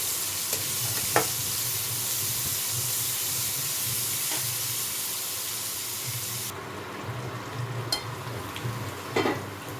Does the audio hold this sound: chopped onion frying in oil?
yes